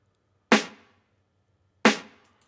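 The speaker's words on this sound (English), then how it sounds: "Then there's a snare." Two crisp snare drum hits, about a second and a half apart, each with a sharp bright crack and a short decaying tail, alone in a quiet background.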